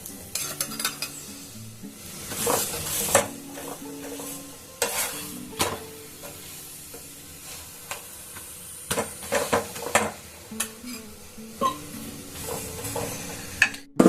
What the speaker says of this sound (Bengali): এই যে দেখুন খুব সুন্দর করে ভাজা হচ্ছে